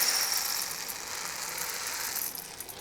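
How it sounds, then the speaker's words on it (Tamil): A mixer grinder jar grinds sorghum grains in a steady, high, rattling whirr, with grit chattering against the blades and no pauses or voices. "இப்போ சோளத்தை வந்து கொஞ்சம் கொஞ்சமாக போட்டு அரைச்சி எடுத்துக்கலாம்"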